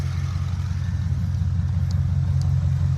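A car engine idles steadily and smoothly at close range, a low, even rumble holding constant throughout with no revving and no voices.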